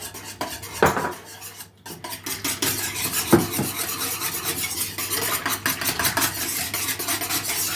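A spoon stirs a cheese mixture for a festive cheese roll in a metal bowl, with steady scraping and rhythmic clinking close by and a brief pause in the middle.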